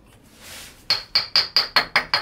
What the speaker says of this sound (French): On va le sortir tout simplement en tapant là, en fait, sur l'axe au niveau de l'écrou de cardan